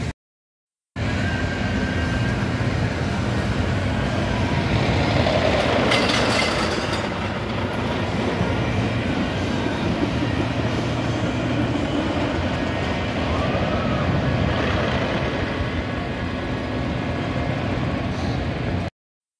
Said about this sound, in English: the train's coming. I gotta hurry up.